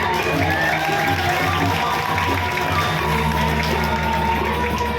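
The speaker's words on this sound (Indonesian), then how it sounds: "Tepuk tangan." A crowd at a Balinese prembon performance by a gong ensemble applauds and cheers in a dense, continuous roar of clapping and shouts, loud and close, with a low musical drone underneath.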